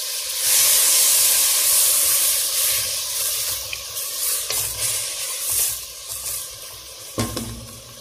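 Tomatoes frying in hot oil for rice with vegetables, a steady close sizzle with stirring scrapes throughout and a sharper clatter near the end, no talk.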